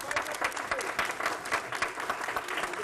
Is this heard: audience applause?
yes